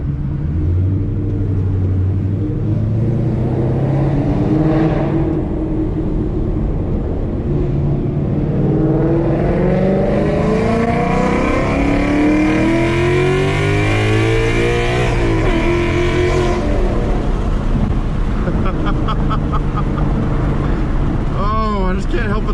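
Ford Mustang 5.0 V8 fitted with long tube headers and a Corsa Extreme exhaust, very loud and close, pulling hard through the revs with rising engine tone, a gear change and another sustained pull.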